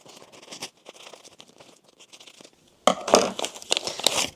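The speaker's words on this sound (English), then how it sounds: "after we embroider everything, we always cut the backing because we have stabilizer on all of our sweatshirts" Scissors cutting non-tearaway stabilizer backing off the inside of embroidered sweatshirts: soft crinkling snips and fabric rustle, faint at first, then louder and denser crinkles near the end, no talk.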